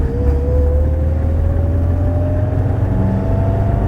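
A Morris Marina accelerates out of a town onto a faster road, its engine note climbing steadily and droning loudly from inside the car for a few seconds.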